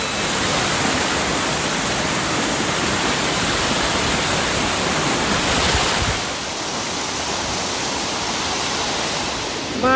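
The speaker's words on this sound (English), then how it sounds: "Bye, Waterfall." A waterfall roars as a dense, steady wash of rushing water, loud and close throughout, dipping slightly partway through with no voices.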